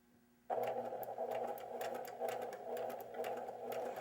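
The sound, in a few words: sewing machine stitching over a seam intersection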